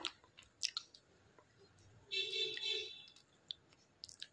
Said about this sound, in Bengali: দেখো পুরো সিঙ্গারা আওয়াজটা শোনাই তোমাদের